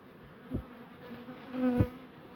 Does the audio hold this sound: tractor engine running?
no